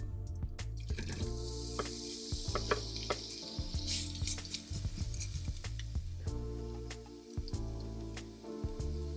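Red onions fry quietly in olive oil in a pan, a soft steady sizzle dotted with small wet pops and crackles that continues alone for several seconds.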